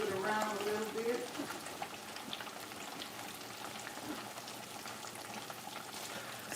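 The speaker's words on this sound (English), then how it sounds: "So you can see what's going on in this iron skillet. See that? There it is. See the sizzle? Hear it?" Fish frying in an iron skillet, a steady close crackling sizzle running throughout with a brief tonal whine at the start.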